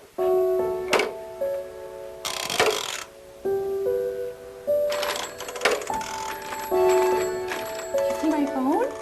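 A toy telephone rings with bright electronic bell tones and short beeping melodies in bursts, separated by brief pauses, with voices and small handling thumps around it.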